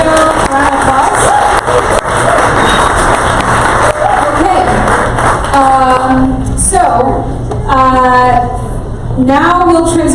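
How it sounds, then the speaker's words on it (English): An audience at an LGBTQ presidential town hall at Sidetrack bar in Chicago claps and cheers loudly and continuously, with whoops and raised voices rising through the last few seconds. "Let's give Julio a round of applause."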